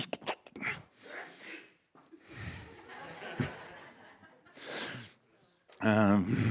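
A sudden sneeze bursts out near the end, following several seconds of soft breathy noise and murmuring.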